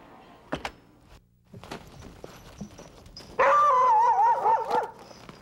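Sled dogs at a dog musher's kennel in Two Rivers near Fairbanks, Alaska, give a few sharp barks and thumps, then a longer wavering howl-like yelp, fairly close and loud.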